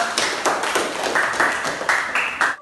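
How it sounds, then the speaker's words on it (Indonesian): A classroom of students gives a short round of clapping for two classmates, a brisk patter of hand claps lasting a couple of seconds before cutting off abruptly. "berikan tepuk tangan buat kedua teman kita"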